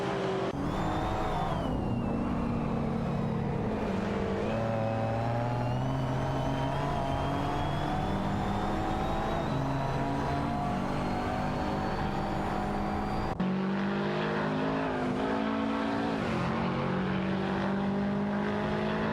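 Engines of a BMW i and an Aston Martin DB11 V12 race around a track in a video game, a constant layered roar with rising and falling engine tones as several cars rev and shift together.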